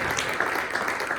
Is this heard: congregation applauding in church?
yes